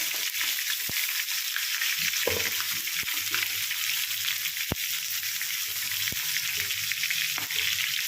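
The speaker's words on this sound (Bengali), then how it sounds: "সেই জন্য দুবারে ভাজতে হবে দেখো হালকা হালকা সোনালি সোনালি করে ভেজে নিয়েছি" Chicken pieces fry in hot oil until lightly golden, a steady close sizzle with a few sharp knocks and clinks of a utensil against the pan, and no talking.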